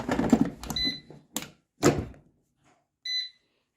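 Air fryer control panel gives short electronic beeps as the chicken preset button is pressed, a couple of crisp tones between bursts of nearby talking and handling noise, with the last beep standing alone.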